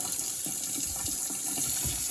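Steady rush of water running from newly installed bathroom shutoff valves on new copper supply pipes during a bathroom renovation, a constant close hiss with faint gurgles and no speech.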